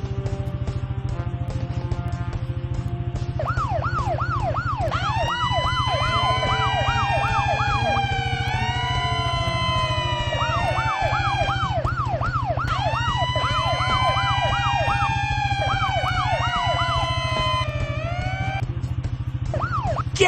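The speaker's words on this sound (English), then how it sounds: "To turn our sirens on and off, use your mouse to click on the fire trucks." Cartoon fire truck sirens in a children's online game, wailing and yelping in repeated sweeping cycles over a steady low engine drone, loud and continuous with no speech.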